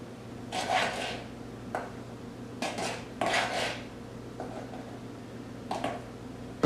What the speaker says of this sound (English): So I'm going to use my larger spoon to scoop my flour into my 1/4 cup.